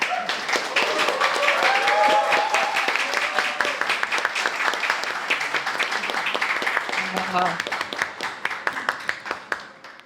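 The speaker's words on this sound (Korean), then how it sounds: "박수로 맞이해 주시죠" Audience applause welcomes a guest lecturer at a democracy forum, full and dense at first and then thinning into scattered claps over about ten seconds, with faint voices mixed in.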